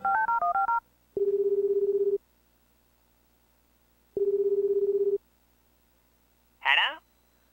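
Video game Tokimeki Memorial Girl's Side 2nd Kiss plays a quick run of telephone keypad tones, then two long steady ringback beeps separated by silence, ending with a short bright chime.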